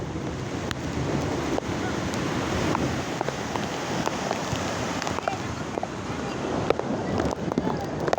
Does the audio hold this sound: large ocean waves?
yes